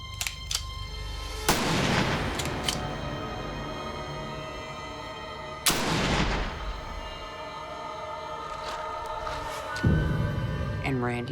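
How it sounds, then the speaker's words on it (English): Gunshots from a dramatized killing: a few loud, sharp blasts spaced several seconds apart, each with a long ringing decay, over a steady low background. "She just shot him!"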